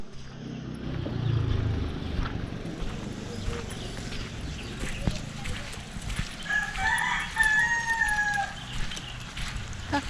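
A rooster crows amid clucking chickens in Lombok, with an outdoor ambient bed and faint voices nearby.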